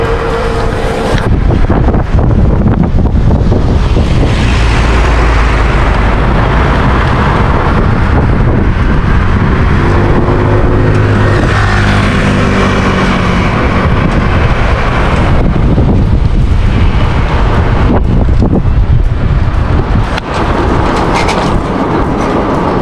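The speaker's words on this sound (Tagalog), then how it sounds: "malakas yung hangin" Strong wind in Taiwan roars steadily into the microphone, loud and buffeting throughout, with low rumbling gusts and no voices.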